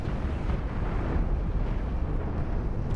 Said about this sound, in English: Like this is firing the chain guns.